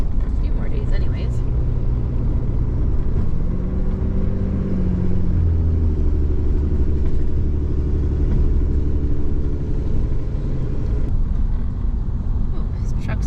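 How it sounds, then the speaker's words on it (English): A truck barrels down a snowy mountain highway on the way to the Yukon, heard as a loud, steady road rumble with engine drone throughout, and people talk over it. "this truck's going barreling down"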